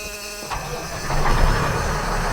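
An old engine at an auction catches after only a very brief crank and settles into a steady, rough running rumble, close and continuous.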